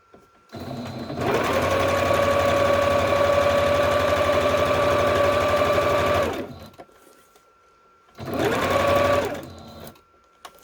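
A sewing machine runs steadily in straight stitch around the edge of a fabric pocket, a long continuous whirring burst of about five seconds followed by a pause and a second, shorter run, close and clear with no talking.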